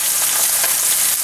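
A beef pot roast sears in a hot pan, giving off a loud, steady, close sizzle of frying with no break and no talking.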